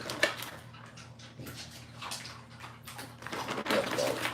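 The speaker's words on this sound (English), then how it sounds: "She's barking." A pet dog barks in a home, a few short yaps spaced out between clinks and rustling, with quiet background noise in between.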